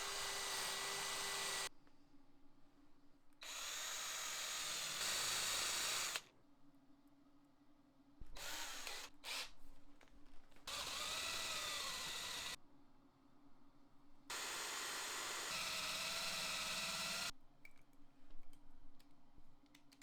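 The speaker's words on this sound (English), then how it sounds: "I'll wire it in by first drilling a narrow hole in the bottom of the handle, and then a wider hole for that push-button trigger." A power drill bores holes into the bottom of a handle in bursts, its high whine starting and stopping several times with quiet gaps between.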